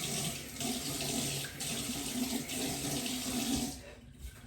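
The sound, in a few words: running tap water splashed on face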